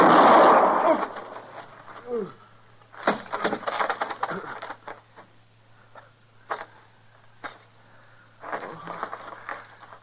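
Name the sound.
gunshot in a western radio drama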